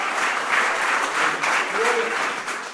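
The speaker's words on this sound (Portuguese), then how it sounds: "Você pode aplaudir ao nome do Senhor" A church congregation applauds during a sermon, a dense, steady wash of clapping that holds at full strength throughout, with faint voices mixed in.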